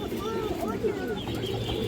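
Red-geared pigeons coo softly in a loft among other birds, a low murmuring call repeating steadily close by, with someone talking over it.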